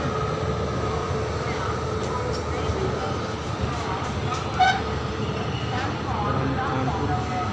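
Sampoorna Kranti Express running in general class between New Delhi and Patna, a steady loud rumble of wheels and carriage noise throughout, with faint voices mixed in.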